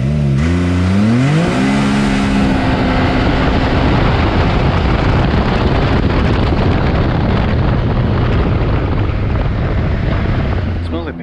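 A Stage 5 Mitsubishi Evo with an X85 turbo launches hard from a stop with wheel spin, its engine rising quickly through the gears into a loud, sustained roar that fills the cabin almost to the end.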